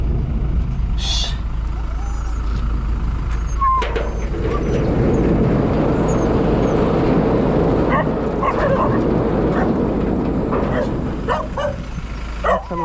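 Dog barking and yipping in short bursts, with whimpers between, over a background of voices talking and a low traffic rumble with a passing truck.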